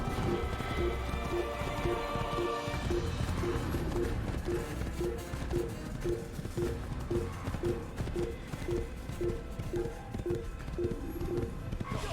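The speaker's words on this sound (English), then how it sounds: "You guys left me another horse." Horse hooves clip-clop steadily in Assassin's Creed Valhalla, a regular rhythmic trot running throughout over a dense game soundscape with music and ambient layers.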